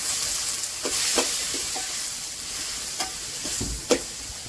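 Tomato slices go into onions frying in a pan for Chettinad-style quail gravy, giving a steady sizzle broken by several sharp scrapes and clinks of stirring, close and clear, with no talking.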